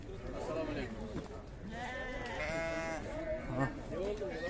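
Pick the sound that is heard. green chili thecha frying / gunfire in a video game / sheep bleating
sheep bleating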